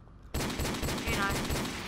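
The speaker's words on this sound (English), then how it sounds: "Let's go around shooting everything" Sudden, loud gunfire from Modern Warfare Remastered breaks a brief silence, then continues as a fast, steady burst of closely spaced automatic shots.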